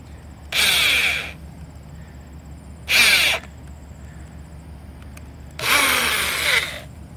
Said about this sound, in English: So my drill bit I'm using is a 1/4 inch.